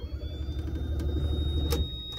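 A flooded car engine cranks over and over without catching, a dense, rhythmic starter churn with a steady low rumble throughout, close and fairly loud.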